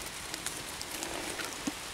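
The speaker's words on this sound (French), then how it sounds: "il pleut vraiment là, mais pas que des petites gouttes" Steady rain patters on a surface, a dense hiss dotted with scattered individual drops, fairly close and even throughout.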